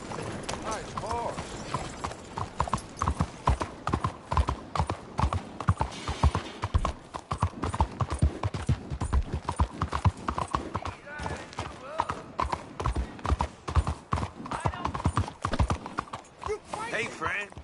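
Hooves clip-clop steadily and fairly close in Red Dead Redemption 2, a brisk repeated beat of hoofbeats with a horse's brief whinny mixed in.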